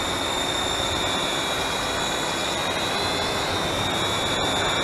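A small Holy Stone HS120D quadcopter drone hovers and drifts outdoors on a windless day, giving a steady, high-pitched whine of its propellers that stays constant and close throughout, with no talking.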